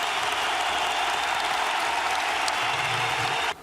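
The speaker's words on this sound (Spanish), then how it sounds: "Yo quiero que les dediquéis un aplauso irónico a todos esos que dicen que estamos divididos" Audience applause at a Podemos gathering, a dense steady wash of clapping that holds at a constant level for about three and a half seconds, then cuts off abruptly.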